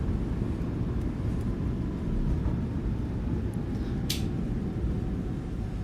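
A steady, loud low roar of airliner engines and rushing noise during the landing rollout in a flight simulator game, holding constant throughout with a brief faint high chirp near the end.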